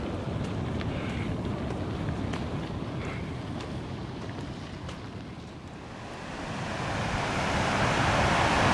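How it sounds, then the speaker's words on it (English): A distant river roars steadily as a broad rushing wash, mixed with gusty wind buffeting the microphone and swelling louder toward the end, with no talking. "There's a roaring sound, but it must be from the river, I guess"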